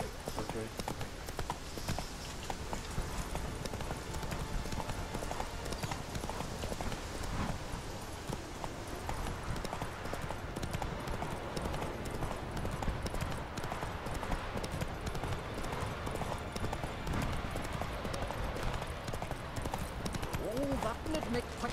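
Roach the horse in The Witcher 3 video game, hooves clip-clopping in a steady walking rhythm throughout, with someone talking over it.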